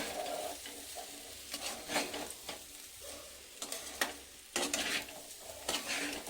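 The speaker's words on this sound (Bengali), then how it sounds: "এটা দিয়ে একটু নাড়াচাড়া করে নিয়েছি" Fried rice with fried cauliflower and prawns is tossed in a pan, soft sizzling under intermittent scraping strokes of a spoon, quiet and close with uneven rhythm.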